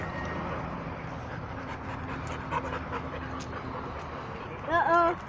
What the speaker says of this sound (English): Only this dog wants the water.